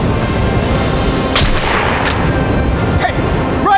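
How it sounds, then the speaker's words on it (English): Gunfire in an audio drama, rifles firing blind into a train's passenger car, sounds as a dense, loud, continuous volley of shots and booms that fills the whole stretch without letting up. "his men kept firing blind into the passenger car behind them"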